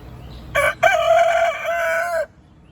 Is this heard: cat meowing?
no